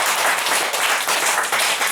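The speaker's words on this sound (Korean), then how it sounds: "힘차게 박수를 드리겠습니다" A church congregation bursts into vigorous applause during a Korean worship and praise service, a dense, loud wash of many hands clapping at once for the whole moment.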